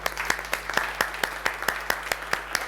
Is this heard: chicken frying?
no